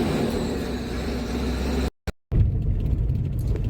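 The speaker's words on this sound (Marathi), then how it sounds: "भाऊ आला मोठी गाडी घेऊन." A big car arrives to collect a traveller in a village district, its engine rumbling low and steady nearby, briefly cut by a moment of silence before the rumble resumes.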